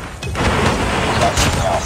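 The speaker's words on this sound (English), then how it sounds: "Predator missile away." A Predator missile launch in Call of Duty Mobile gameplay, a loud, dense rumbling blast that sustains for nearly two seconds amid other booming battle noise, with a voice speaking over it.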